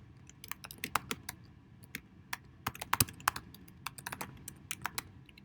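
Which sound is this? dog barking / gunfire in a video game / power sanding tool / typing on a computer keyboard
typing on a computer keyboard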